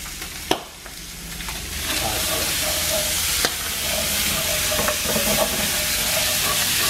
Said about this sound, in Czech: Pěkně si uděláme slaninku.